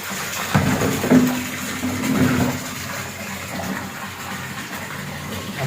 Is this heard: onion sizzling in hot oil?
no